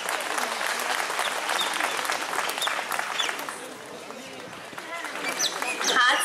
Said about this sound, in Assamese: হাত চাপৰি সবাই হাত চাপৰি মাৰে